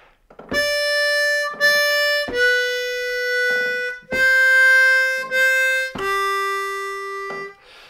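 A C-pitched diatonic harmonica plays a short Silent Night phrase of five sustained, clear reedy notes, each draw and blow held about a second with brief breathing gaps, close and alone.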